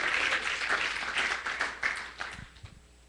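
A church congregation gives a round of applause to the Lord, dense clapping that fades out over a few seconds, leaving a few scattered final claps.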